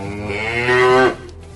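A cow lets out one long, loud moo, close by and alone, rising in strength before cutting off abruptly.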